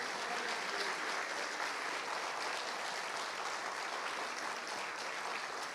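A church congregation applauds together during a Mother's Day service, with steady, dense clapping that fills the room at an even level from start to finish.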